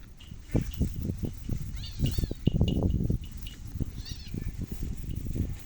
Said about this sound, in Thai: หมามันหยอกแรงแมวเจ็บ